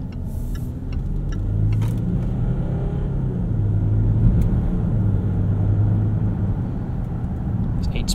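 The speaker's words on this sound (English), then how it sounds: "This 8-speed automatic is matched very well to the turbo diesel 6." A 2018 Land Rover Discovery HSE Luxury Td6 with a turbo diesel six and 8-speed automatic drives at a steady pace, heard from inside as a continuous low rumble of engine and road noise with faint ticks above.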